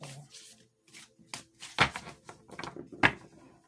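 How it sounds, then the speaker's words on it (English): Short riffling bursts of an oracle card deck being shuffled, a few quick sharp flutters with small papery taps in between, close and fairly quiet. "Let me do a good shuffle."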